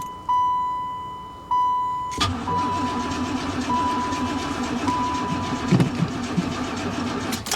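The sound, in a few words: Corvette convertible engine cranking but not starting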